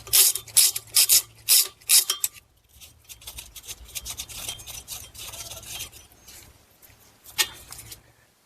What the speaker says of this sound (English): Next, we'll remove this screw here that's holding our rotor.